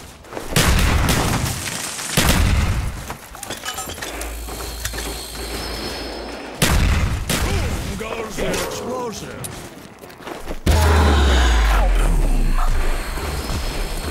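Automatic carbine firing pistol cartridges in a Black Ops Zombies match, with loud bursts of rapid shots, mechanical clacks and booms over a dense game soundtrack, and a voice talking in places.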